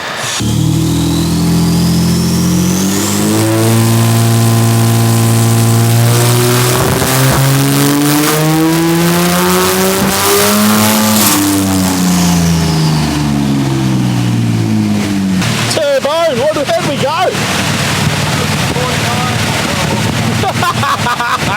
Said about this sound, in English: Let's get it on the dyno. Let's get this thing going.